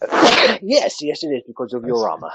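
A single sharp sneeze bursts out at the start, loud and close, followed immediately by a voice speaking.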